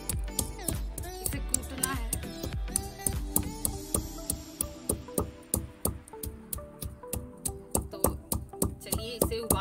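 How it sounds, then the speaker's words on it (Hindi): Giloy stems are pounded on a stone sil batta grinding slab, giving a steady run of sharp, close thuds at a quick, even rhythm, with no talk over them. "अब मैं इसे सिलबट्टे पे कूट लेती हूँ कुछ इस तरह से।"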